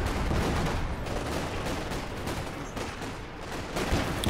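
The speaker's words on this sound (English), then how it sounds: "Artillery fighting." Continuous rumbling battlefield gunfire and artillery in a video game clash, a dense loud barrage of overlapping blasts with no clear gaps.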